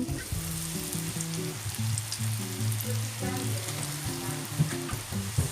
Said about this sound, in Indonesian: Udah minyak panas, kita masukin kulit lumpianya.